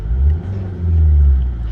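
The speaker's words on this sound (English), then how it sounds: "I'm going to give it a very quick rev." A 2011 Ford Kuga 2.0 TDCi diesel engine gives a quick rev, a loud, close, low rumble that swells twice over a steady idle with no talking.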